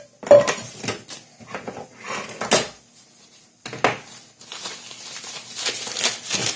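A Snow Peak Trek 900 titanium pot, an MSR Titan kettle lid and a Titan cup are handled and nested together, giving irregular metallic clinks, clanks and scrapes with short pauses between bursts.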